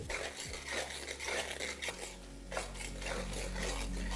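Sliced onions fry on high flame in a pan for mutton Kabuli pulao, giving a steady, close hiss with scraping and clattering of a stirring spoon throughout and no voices.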